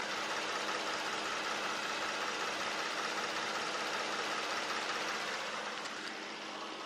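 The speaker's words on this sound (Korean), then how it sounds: "정말 완벽한 소리까지 내고 있는 이 DH 차량 바로 엔진 소리 한번 들려드릴게요" A Hyundai Genesis DH sedan idles at close range with a steady, smooth, continuous engine hum and no talk over it.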